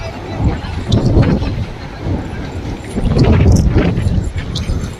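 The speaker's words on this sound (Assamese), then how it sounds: "পাৰ হৈ গৈছে, লোকেল ট্ৰেইন" Local train crossing the Pamban bridge at Rameshwaram, a rumbling rhythmic clatter of wheels over the track mixed with strong seaside wind buffeting, fairly loud and continuous.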